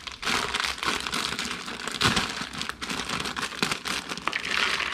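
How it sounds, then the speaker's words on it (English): Bagged shredded broccoli slaw tipped into a bowl, a continuous close crinkling and rustling of plastic packaging with dry vegetable shreds sliding out, fairly quiet with no talk. "So you pour the whole thing in your bowl."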